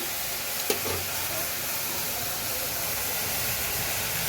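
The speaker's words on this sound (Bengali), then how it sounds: "একটু নাড়ালাম" Drumstick flowers and poppy seed paste being stirred in a hot pan as a curry, giving a steady close sizzle and hiss with a faint scrape of the spoon early on.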